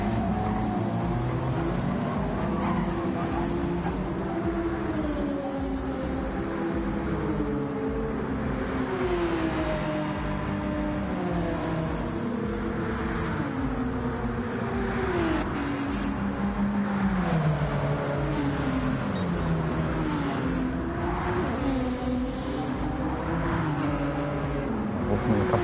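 Race cars in a Gran Turismo 7 video game race drone steadily, their engines whining up and down through gear changes as they run side by side, with a continuous close roar and no pause throughout.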